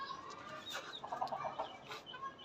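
A black hen and other chickens cluck softly in a backyard flock, with a short run of quick clucks and faint bird calls at a moderate distance. No one speaks.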